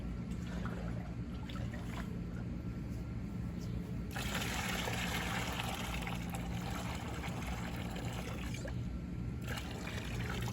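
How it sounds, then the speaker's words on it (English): Water pours steadily into a pesticide mixing bucket, a continuous close splashing and trickling with a thicker gush partway through, running on without pause. "Okay, so I start pouring water into the mixing bucket."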